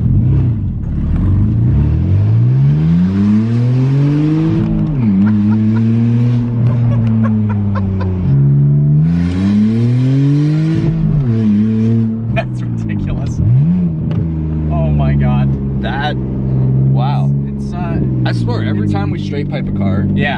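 A straight-piped BMW Z4 in sport mode accelerates hard from inside the cabin, its loud raspy exhaust climbing through repeated rising revs with shifts between pulls, while occupants talk over it.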